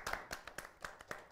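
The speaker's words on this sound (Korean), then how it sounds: "박수 한번 부탁드립니다" A few hands clap in a live broadcast studio, five or six quick, crisp claps in a steady rhythm, close and fairly quiet, with no talk.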